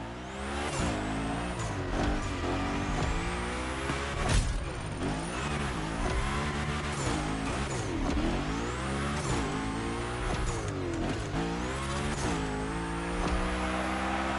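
Hoonicorn gymkhana car in the racing game The Crew Motorfest, its engine revving hard and wailing up and down through sliding drifts, with steady loud engine noise throughout and bursts of tire squeal.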